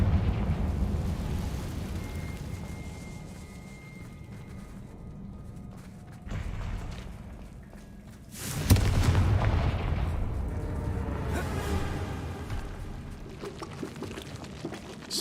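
A Confringo blasting curse goes off in Hogwarts Legacy on PS5 with a sudden loud blast, followed by a rumbling, crackling decay over the game's low ambient drone.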